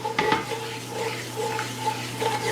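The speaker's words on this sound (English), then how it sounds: "So we're just gonna heat this roux up just a little bit by stirring." A roux being stirred in a pot for crawfish and crab stew, a steady scraping swirl with faint sizzling and a low background hum, continuous and close, with no voices.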